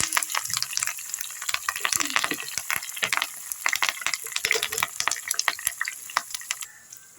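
Dried red chillies and curry leaves fry in hot oil in a pan for gongura pickle, a crackling sizzle with sharp irregular pops and stirring scrapes, close and continuous.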